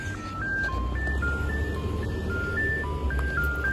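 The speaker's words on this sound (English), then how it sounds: "I'm about to get some from this Wolo 345 ice cream truck." A Wolo 345 ice cream truck horn plays a bright, repeating electronic jingle melody at moderate distance over a low idling rumble near a railroad crossing on Thompson Lane.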